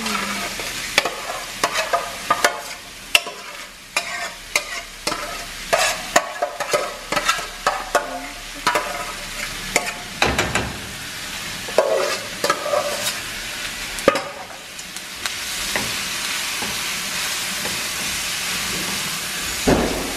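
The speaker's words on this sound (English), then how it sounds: "So these are being sauteed. I am about to add the shrimp" Shrimp and bacon sauté in a pan for a quick pasta dish, with a run of sharp utensil knocks and scrapes over a hissing sizzle that swells into a louder steady hiss near the end.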